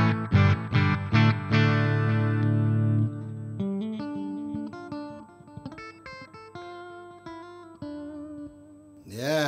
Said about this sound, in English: It sounds like my Strat.